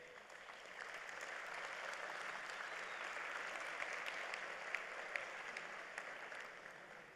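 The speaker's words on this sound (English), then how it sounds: "Let us share another round of applause for the great accomplishments to date." A large crowd at a graduation commencement ceremony applauds steadily, a dense, even patter of many hands clapping that holds at a constant level throughout, with a few sharper claps standing out.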